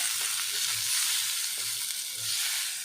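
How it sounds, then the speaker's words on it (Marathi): Roasted chili, peanuts and garlic tossed into steamed tomatoes in a hot pan for spicy green tomato thecha, giving a steady close sizzle of frying with soft stirring underneath. "आता आपण त्याच्यामध्ये आधी भाजलेलं"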